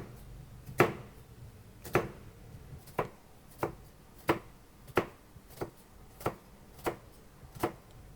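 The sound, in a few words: knife slicing a small onion for mincing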